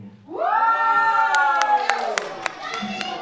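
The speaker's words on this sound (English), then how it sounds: "Stop clapping." A live wrestling-show audience claps and cheers after a Golden Ticket Rumble announcement, loud and close, while a performer's sustained voice rides over the crowd.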